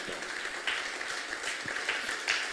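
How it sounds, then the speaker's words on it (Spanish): Church congregation applauding during a sermon, a steady wash of many hands clapping at moderate distance, continuous throughout with a few louder bursts standing out. "Le puede dar un aplauso a Dios, el justo."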